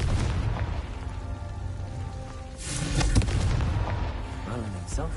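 A Confringo spell explosion in the Hogwarts Legacy video game, a booming blast swelling midway through amid continuous rumbling game noise and scattered crackles.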